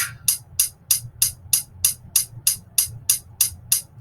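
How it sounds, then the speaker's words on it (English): Chrome Music Lab's hi-hat sounds on every downbeat and upbeat, giving a steady train of about fourteen crisp, evenly spaced ticks at a moderate level with nothing else behind them. "So that's the row of hi-hats"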